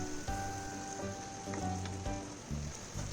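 Mashed potato samosa filling cooking in a pan, a constant close sizzle and fry with soft scraping stirs and light taps of a utensil against the pan, with no voices.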